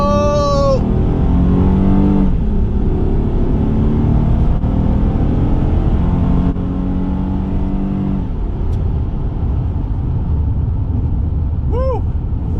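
A 2010 Honda Pilot EXL on a test drive, its engine revving and accelerating with rising whining tones and a steady road rumble, moderately loud, while people talk and exclaim inside the cabin.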